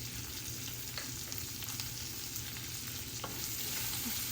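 Chopped onion sizzles and fries in a pan for Himachali palda, a steady close hiss with occasional stirring scrapes and no talking.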